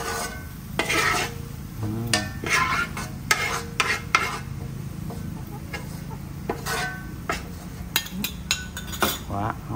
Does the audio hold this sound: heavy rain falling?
no